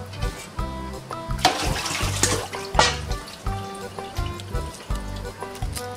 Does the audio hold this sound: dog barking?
no